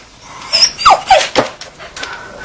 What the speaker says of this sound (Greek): Πήγε ρε αυτός ο σκύλος εδώ.